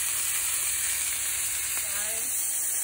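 A ribeye steak sears in a hot pan, giving a steady, fairly quiet broadband sizzle that runs evenly through the whole stretch, with a faint brief tonal squeak near the end.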